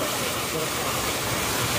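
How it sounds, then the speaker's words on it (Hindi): A roaring waterfall at Madhe Ghat pours water from above, a loud, steady broadband rush that fills the whole clip. "ऊपर से पानी गिर रहा है।"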